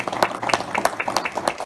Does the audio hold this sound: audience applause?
yes